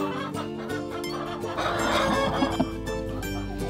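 Chickens cluck close by in a coop, with several short, repeated clucks over a steady background hum.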